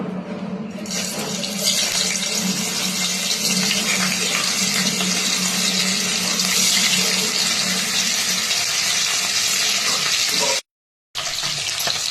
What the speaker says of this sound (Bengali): পনিরগুলো ভাজা হচ্ছে